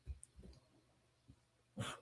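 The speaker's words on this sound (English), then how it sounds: "Do not start barking." A few short, low dog barks or woofs, brief and spaced out, with a louder bark near the end; quiet room otherwise, during a card game duel.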